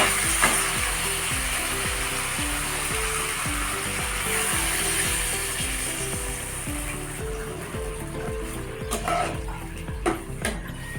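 Prawns and pumpkin sizzle steadily in a pan after a splash of water, a continuous loud frying hiss with a regular bubbling pulse throughout, and a few sharper clicks of stirring toward the end.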